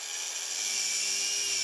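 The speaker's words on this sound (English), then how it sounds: "Sand down the corner seam." A sanding machine with a Velcro fabric disc on a medium hard red support plate works the corner seam of square stainless steel tubing, giving a steady high-pitched whine that holds evenly and close throughout, with no talking.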